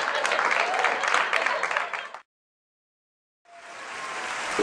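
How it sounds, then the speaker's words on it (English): A studio audience breaks into dense, steady applause that stops abruptly, then after a second of silence another wave of clapping swells back up, loud and close. "Did somebody please turn off the applause?"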